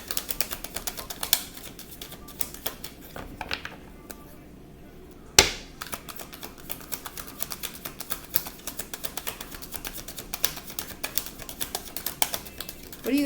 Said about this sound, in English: when you're shuffling the cards and this type of stuff happens?